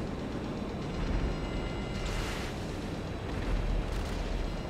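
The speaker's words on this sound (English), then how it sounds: "That was a missile that blew up in the air" A missile bursting in midair during a combat video game, a rumbling explosion with a broad roar rising around the two-second mark amid continuous low battle noise.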